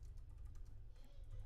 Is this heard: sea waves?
no